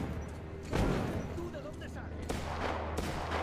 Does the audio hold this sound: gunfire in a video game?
yes